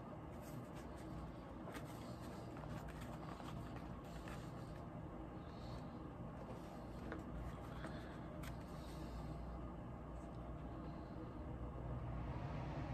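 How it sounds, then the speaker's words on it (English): Central air conditioning fan running steadily in the background indoors, a constant low broadband hum and whoosh that stays even throughout with no talking. "Now you guys hear that background noise, that fan? Well, that's the central air conditioning basically running."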